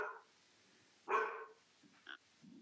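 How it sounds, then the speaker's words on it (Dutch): A dog barks once, fairly loud and close, in an otherwise quiet indoor room, followed by a few softer short yips and whimpery sounds. "de hond gaat er even tussendoor."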